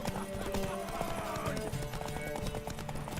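Horse hooves clip-clop in a quick, steady rhythm during a horse race in The Witcher 3, a horse whinnies briefly, and other game sounds carry under it at low level.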